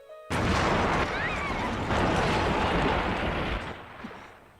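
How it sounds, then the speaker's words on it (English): Explosion on a ship's roof in the Norn9 video game: a sudden loud blast after a brief quiet start, then a sustained rumbling roar that tails off near the end. "I can hear a loud explosion on the roof."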